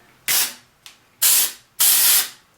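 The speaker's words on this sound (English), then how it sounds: "now it's where we take the texture spray. It's a pretty powerful spray" Aerosol hair texture spray misted onto curled hair ends for beachy waves, heard as three loud, close hissing bursts with one short puff between them, each blast lasting under half a second, with no voices.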